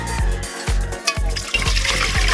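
Water runs into a kaldero cooking pot being patched over a hole, splashing in a close, steady stream with a rhythmic gurgling pulse, and no voices.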